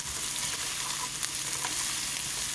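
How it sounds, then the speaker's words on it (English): Rosemary sautéing in a pan as ground lamb rice balls are prepared, giving a steady, even sizzle with faint crackles throughout and no voices. "So we're going to let that saute for a couple of minutes."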